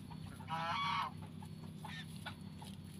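A white goose gives one loud honk lasting about half a second, heard close and fairly faint against a quiet background hum, with no speech.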